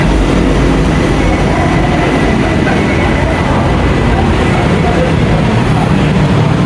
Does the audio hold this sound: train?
yes